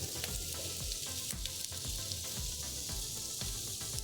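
Shrimp frying in a single layer in a ripping hot skillet with adobo butter, giving a loud, steady sizzle with crackling pops throughout and no talking.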